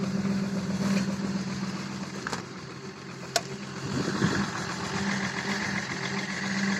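A BMW E53 with a 3.0-litre diesel engine idles steadily after a cold start, a continuous low rumble with a faint clatter and a couple of brief clicks, and no talking.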